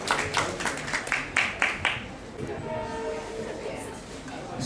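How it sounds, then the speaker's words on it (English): An open mic audience gives a short burst of clapping, a few quick rhythmic claps of modest loudness that fade after about two seconds into quiet room noise. "So everyone, a round of applause for Meek."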